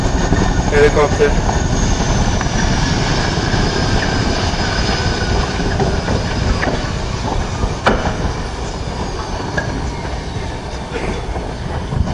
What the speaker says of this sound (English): Now you see the same helicopter.